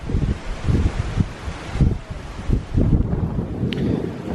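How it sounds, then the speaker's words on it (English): Strong gusty wind at an outdoor safari park buffets and roars, pulsing in heavy bursts with rumbling low noise and a rustling hiss throughout. "It's a very windy day"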